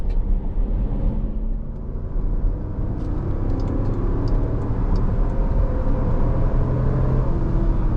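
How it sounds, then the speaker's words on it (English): 2020 Jeep Grand Cherokee Limited X with a Hemi V8 engine driving on the road, a loud continuous low rumble of engine and road noise inside the cabin, steady throughout. "It makes a great noise. The Hemi in here is actually rather refined."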